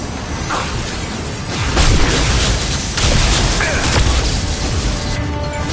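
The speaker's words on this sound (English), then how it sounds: "Watch out! Flashbangs!" Flashbang grenades going off during a firefight in Mass Effect 2, heavy booming bursts near the two- and three-second marks over a dense, continuous wash of combat noise.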